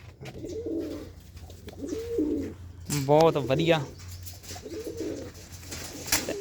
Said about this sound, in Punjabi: ਆ ਵੀਰੇ ਆ ਗਈ ਚੌਥੀ ਕਬੂਤਰੀ ਬਾਹਰ